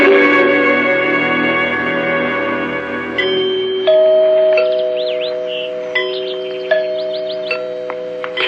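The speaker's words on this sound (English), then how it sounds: "Did you hear the chimes?" Door chimes in a grand house ring out in a series of resonant, bell-like tones that linger and echo, with fresh strikes coming every second or so as earlier notes decay.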